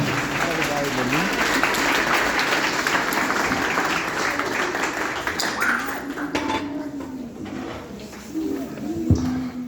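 Crowd applause rolls steadily under a voice speaking French at a religious service, with scattered clapping continuing throughout.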